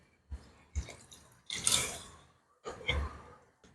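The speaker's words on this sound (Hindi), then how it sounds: "अभी हमने चावल डालना है जो हमने पहला तकरीबन सवा घंटा पहले भिगोया था, हमने वो ऐड करना है" Soaked rice tipped into a pot of water for masala pulao, heard as a few separate wet splashes and slurping pours with soft thuds, close and fairly quiet, gaps of near silence between them.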